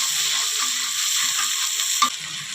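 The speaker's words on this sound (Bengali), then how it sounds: "এখন আমি মশলাটা সুন্দর করে কষিয়ে নেব" Turmeric, coriander powder and salt masala sautéed in a pan for a pabda fish curry, a steady loud sizzle with faint scraping of the spoon and one brief clack near the end.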